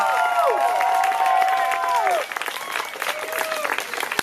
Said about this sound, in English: give a nice big round of applause to Mr. and Mrs. Beeman